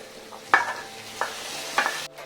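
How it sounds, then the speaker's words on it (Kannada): Onion and curry leaves dropped into hot coconut oil for a tempering, giving soft crackling sizzle with a few sharp spitting pops and stirring clinks, fairly quiet and close, with no talking. "ಈಗ ನಾನು ಅದಕ್ಕೆ ಒಗ್ಗರಣೆ ಹಾಕ್ತಾಯಿದ್ದೀನಿ."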